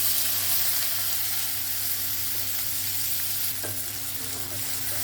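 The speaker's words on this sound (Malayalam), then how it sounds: "ഇനി ഇതിലോട്ട് അരിഞ്ഞു വെച്ചിരിക്കുന്ന ഉള്ളി ഇട്ട് കൊടുക്കാം." Chopped onions fry in hot oil in a pan, giving a steady, close sizzle and crackle that continues evenly throughout without any voices.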